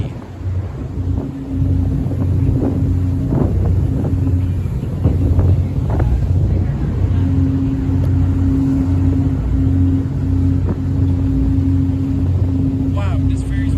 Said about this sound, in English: Wow, this ferry's very fast and windy.